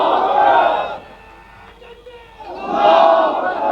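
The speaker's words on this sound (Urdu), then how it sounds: "آپ نعرے لگائیں" A large crowd at a gathering about a Waqf board shouts slogans in two loud, full-throated bursts. A brief lull separates the two bursts.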